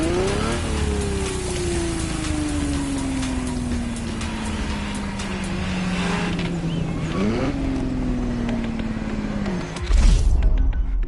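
Ferrari GTO supercar engine in a racing video game, a steady droning tone that slowly falls in pitch, then jumps up with a gear change near the end, heard continuously against a noisy hissing background.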